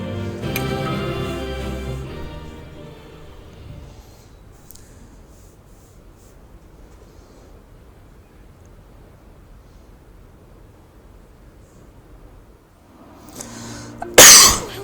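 After a long, quiet stretch, a single sharp cough bursts out loudly near the end, close to the microphone.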